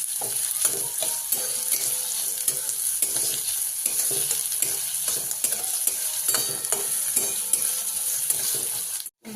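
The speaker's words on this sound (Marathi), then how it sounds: "कांदा चांगला मऊ होईपर्यंत आपण ह्याच्यामध्ये तेलामध्ये चांगला भाजून घ्यायचा।" Onion fries in oil and is stirred steadily, a constant close sizzle broken by regular scraping strokes of the spoon against the pan.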